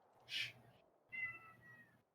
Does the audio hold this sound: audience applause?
no